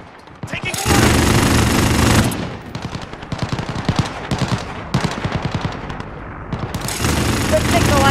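Video game firefight in a Spec Ops mission, with sustained bursts of automatic gunfire and heavy mortar impacts, loud and close, the rapid rattles alternating with dense roaring barrages.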